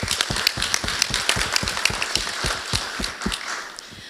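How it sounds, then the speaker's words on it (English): An audience at a piping event applauds for the National Piping Centre, dense steady hand claps close by, continuing for several seconds before thinning toward the end. "So let's give them an applause"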